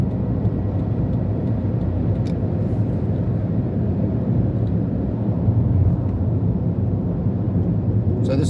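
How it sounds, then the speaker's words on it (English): Inside a Toyota Vitz cruising at 100 km/h with its engine at about 1500 RPM on an Auckland motorway early in the morning, a steady low engine and road drone carries on evenly throughout. "So the little Vitz is sitting on about 1500 RPM at 100 Ks."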